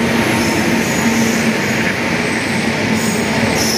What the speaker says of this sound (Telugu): ట్రైన్ వచ్చేసింది చూడండి.